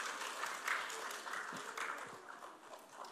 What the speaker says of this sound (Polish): Większy brawa.